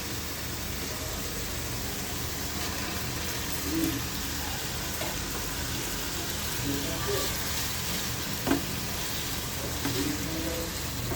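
Fish frying in spiced masala as it is stirred, a constant moderate sizzle with occasional soft scrapes and clinks of the spatula, fairly close.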